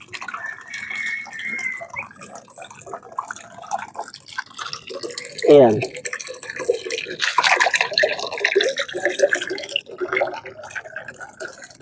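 Water runs and splashes into animals' drinking container as it fills, a steady trickling and dripping pouring close by with a brief louder splash midway, while a person says a word over it.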